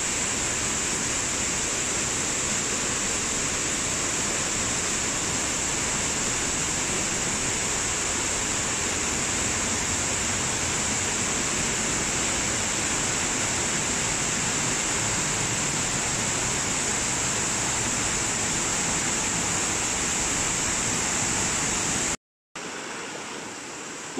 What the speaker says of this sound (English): So that waterfall is inside the cave,